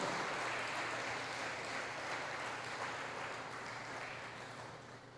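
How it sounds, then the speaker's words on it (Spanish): Broad, steady applause from a church congregation during a sermon, even and moderately distant, slowly fading toward the end. "Dele un aplauso poderoso a ese Dios maravilloso."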